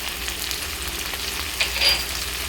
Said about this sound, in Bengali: আলু আর ডাঁটা কিছুক্ষণ ভাজার পরে